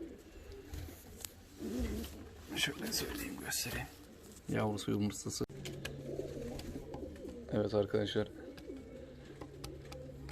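Fancy costume pigeons coo in low, soft rolling phrases, several times and close by, while someone talks quietly over them.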